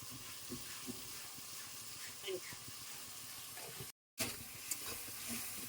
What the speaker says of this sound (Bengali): ভালো করে মশলাটা কষিয়ে নিতে হবে তারপর ভালো করে কষাতে হবে